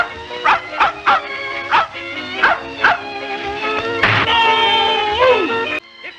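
A small dog yips and barks in a scene from the Laurel and Hardy film Laughing Gravy, several short sharp barks followed by a longer whining yelp, close and clear with film-soundtrack tone.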